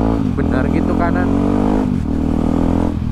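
A Yamaha WR155R motorcycle engine idles and putters at low speed, a steady deep throbbing exhaust note with slight rises, close and loud throughout.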